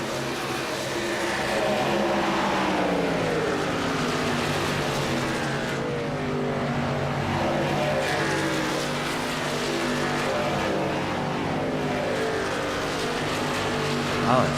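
Race cars roar around a track during a contender series race, engines droning loudly and continuously with layered pitches as several cars run together, under an announcer's commentary.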